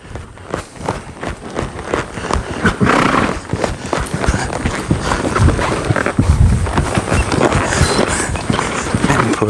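A horse in slide shoes stopping and departing in an arena, loud close hoofbeats and sliding thuds with heavy breathing, rising and falling as it brakes and pushes off again.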